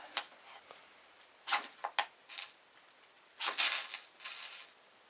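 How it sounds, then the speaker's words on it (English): Scraping and crackling cuts as the back spine of a Mora Garberg knife shaves feather sticks from dry wood, coming in uneven bursts of several strokes, fairly close and with no talk. "Now it's time for some feather sticking. I will start with the back side of the knife."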